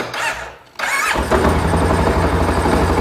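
A Polaris Sportsman XP 550 ATV engine cranking briefly with a squeal, pausing, then catching and settling into a loud, steady idle, close by.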